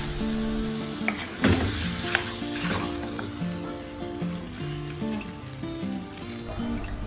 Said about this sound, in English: Now time to add marinated cuttlefish. Mix everything well.